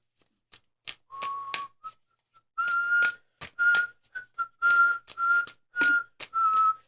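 Whistled notes played backwards, a string of short rising tones, each swelling in and cutting off abruptly, interspersed with sharp clicks, fairly close and clear with no talk.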